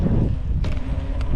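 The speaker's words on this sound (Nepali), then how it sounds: "हावा चलिरहेको छ" Wind buffets a microphone during a mountain bike ride in Fukuoka, Japan, a continuous loud low rumble with a couple of brief gusty bursts.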